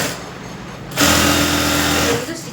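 A sewing machine stitches a blouse seam in a short, steady run that starts abruptly after a quiet moment and holds an even whirring hum before easing off at the end.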